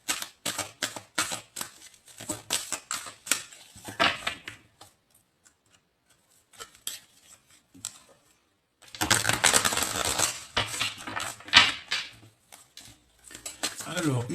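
Tarot cards are shuffled by hand, producing bursts of crisp, close riffling and slapping clicks separated by a quiet pause, with a second, denser flurry near the end.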